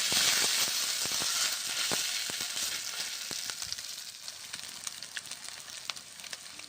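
Maggi noodles with egg sizzle and fry in a pan, a steady bright hiss that starts loud and eases off slightly, broken by scattered clicks and soft scrapes of stirring throughout.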